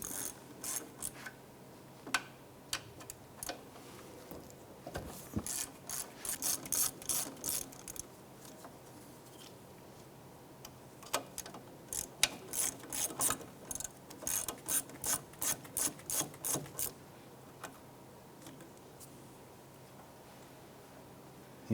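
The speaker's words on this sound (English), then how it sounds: "Remove your caliper slide pins here using a number 7 Allen wrench." Bursts of rapid ratcheting clicks come from an Allen wrench loosening the front brake caliper slide pins on a 2001-2007 Ford Escape, with two long clusters of clicking separated by scattered metallic taps and quiet pauses.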